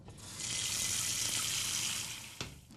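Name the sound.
water poured into a cooking pot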